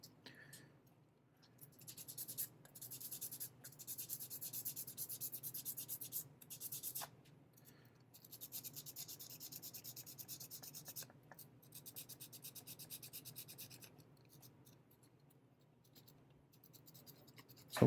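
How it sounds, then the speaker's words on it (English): Sanding a 1/4 scale 3D printed MJ model: close, soft rasping strokes in quick back-and-forth bursts, with brief pauses between passes and faint speech now and then. "So lots of sanding, still lots of sanding"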